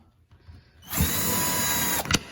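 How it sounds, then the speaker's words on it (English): A power drill bores out a hole from the bottom of a Hickory handle, whirring up after a few light knocks and running steadily for over a second before stopping with a short rattle. "I'm just going to drill out from the bottom."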